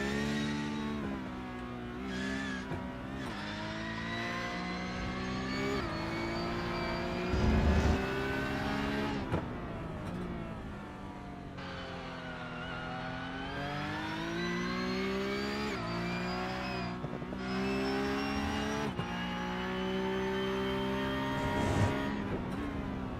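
Porsche Cup race car engine in a sim racing game at the Interlagos circuit, a sustained high-revving whine climbing and dropping through gear changes and braking, steady and prominent with no talk.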